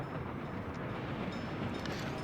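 A train running in the city-building game Workers and Resources, a steady, dense rumble of rolling wagons holding constant throughout at moderate level, with no voices.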